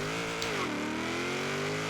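A drag-tuned Chevrolet Bel Air engine revs hard and steady as the car launches into a wheelie, a loud continuous roar that dips briefly in pitch then climbs again, with no talking.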